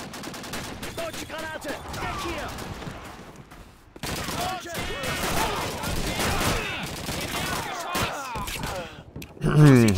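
Gunfire in the World War II shooter Call of Duty 2, dense bursts of rifle and machine-gun shots with sharp cracks and echoes, moderately loud, under continuous game noise and occasional talk.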